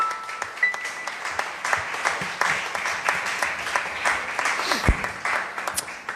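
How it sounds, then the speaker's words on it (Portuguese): Church congregation applauding Jesus at the close of a worship and praise moment, scattered hand claps rising and falling for several seconds with distinct individual claps audible, moderately close. "Uma salva de palmas para o Senhor Jesus."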